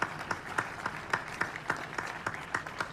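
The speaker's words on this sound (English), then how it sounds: "Yes, I think an applause is due." Faint, sparse clapping from a small group at a municipal courthouse opening ceremony, distinct individual claps in a loose, uneven rhythm.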